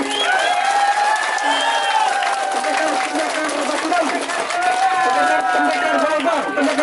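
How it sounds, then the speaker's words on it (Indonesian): A crowd at a village head election event claps and cheers for the winning team, a loud continuous roar of applause and shouting with an amplified voice carrying over it. "tepuk tangan"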